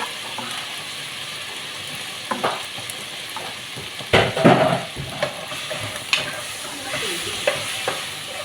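A ladle stirs food in a frying pan over a soft background sizzle, with scattered scrapes and clinks of metal on the pan rising to a louder cluster of strokes midway.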